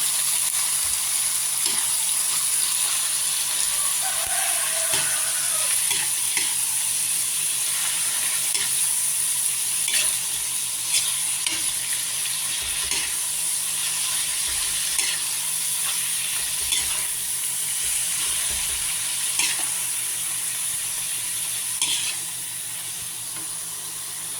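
Pork dinuguan frying in a pan is stirred, giving a steady sizzle with soft scraping strokes, moderately quiet and close, alone without talk.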